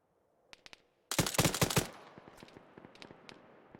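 Machine gun fire at a military field training exercise: a few sharp single shots, then a loud rapid burst of automatic fire that rings out, followed by scattered distant shots as the burst fades.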